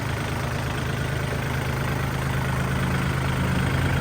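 A 2018 Kubota L4018DT tractor idles with a steady, close, low diesel rumble that stays even throughout, with no voices.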